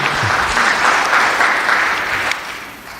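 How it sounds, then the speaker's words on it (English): An audience at a forum on guns in America applauds steadily, a dense wash of clapping that starts strong and tapers off toward the end. "Let's give our applause to Dr. Baptist."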